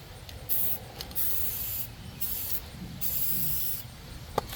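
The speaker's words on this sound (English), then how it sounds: "You want to spray this red primer" Red primer sprayed from an aerosol can onto 3-point tiller tines outdoors in the wind, several hissing bursts of about a second each separated by short pauses, close and loud over a rumbling windy background.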